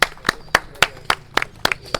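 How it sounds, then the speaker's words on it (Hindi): Slow, separate handclaps, about eight sharp claps spaced evenly over two seconds, fairly close with no talking. "प्लीज़ तालियां सर के लिए"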